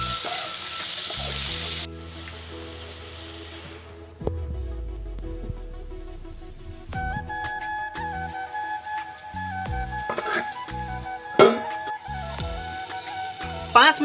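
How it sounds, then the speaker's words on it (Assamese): Wild bitter gourd frying under a lid on a low flame, a soft steady sizzle with occasional clinks and taps of utensils, close and moderately quiet, no talking. "সকলোকে একেলগে সানমিহলি কৰি ল' ফ্লেমত ভাজ খাবলৈ ঢাকোন মাৰি দি দিয়া হ'ল।"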